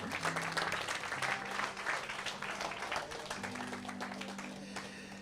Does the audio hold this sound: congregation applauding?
yes